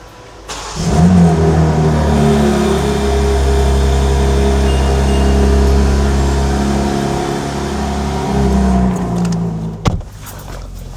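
A car engine starts by remote start, catching with a quick rev after a second, then settling into a steady nearby idle before a brief click and thump near the end.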